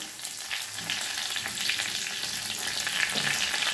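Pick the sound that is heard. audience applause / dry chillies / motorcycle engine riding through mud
dry chillies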